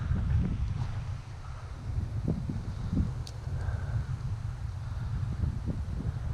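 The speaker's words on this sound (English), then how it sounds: "This wind, man." Wind blowing across open water during bass fishing, a steady low roaring rush with gusty swells buffeting close to the microphone, no talking.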